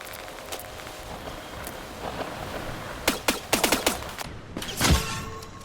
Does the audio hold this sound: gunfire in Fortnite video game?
yes